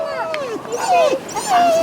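A pack of about six dogs on sandy ground in the Philippines guarding their territory, giving close, loud yips and whining barks in quick bursts.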